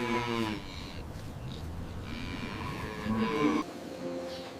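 Dairy cows lowing at a farm, several drawn-out moos overlapping with a steady background of barn noise, fairly close and alone without talk.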